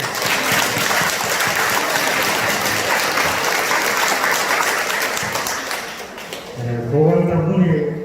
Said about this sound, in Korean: 우리 고마운 마음을 하기 위해서 박수 한번 주십시오.